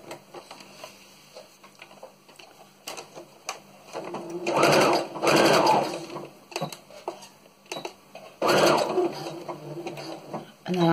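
Sewing machine stitching fabric for a homemade face mask, a steady mechanical whirr with rapid ticking that swells louder in bursts and pauses between, running alone without voices.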